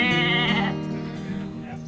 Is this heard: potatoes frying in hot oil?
no